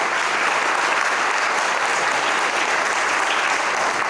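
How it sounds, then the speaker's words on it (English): Sustained applause from a large audience at a university athletic hall of fame awards dinner, steady and dense for the full length, with no voices over it. "A round of applause for the Aramark people."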